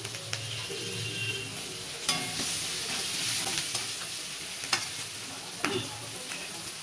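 Bitter gourd, onion and chopped green chilli sizzle steadily in a pan, with a continuous hiss of frying. A spatula occasionally scrapes and clinks against the metal, close up and with no voices.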